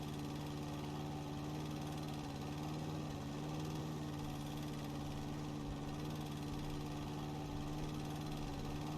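Riding lawn mower engine in the House & Garden Flipper video game drones steadily at idle-like pitch, a constant close mechanical hum with faint vibration and no breaks throughout.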